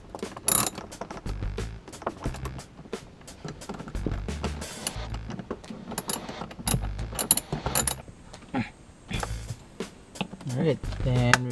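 Ratchet wrench tightening a bolt on a Toyota Fortuner during dash cam cable installation, with rapid clicking bursts and mechanical handling noises up close while a person talks over them.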